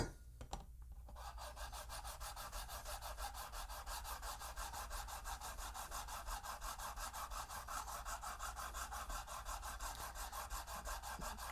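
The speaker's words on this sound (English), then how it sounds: "I'm going to move to the smoother file." A smoother file scrapes excess epoxy off a carbon fiber build surface in steady, even back-and-forth strokes, close and quiet, with a brief knock at the start.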